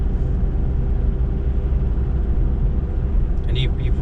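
Steady low engine hum inside a car while driving, the engine recently fitted with a new cam chain; a constant droning rumble fills the whole clip with a brief faint higher sound near the end.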